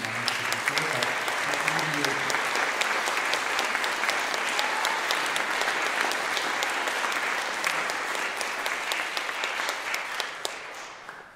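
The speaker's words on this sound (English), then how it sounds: "can everyone give a round of applause to Doug Reed?" Sustained applause from a concert band audience at a spring college concert, dense and steady for several seconds before tapering off at the end, with faint voices under the clapping.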